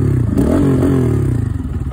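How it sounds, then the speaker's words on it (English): A KPR 200 motorcycle with an aftermarket exhaust revs up nearby, the engine note rising sharply and then falling back to a loud, rough, clattering idle. "I do have an aftermarket exhaust on it."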